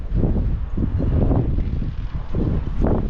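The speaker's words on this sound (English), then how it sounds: "It's windy." Steady roaring wind buffets the microphone, with low rumbling gusts that swell and ease throughout, loud and close.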